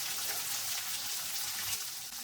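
Nuts fry in hot oil in a pan, giving a steady, soft hissing sizzle with light stirring, fairly faint and continuous with no voices.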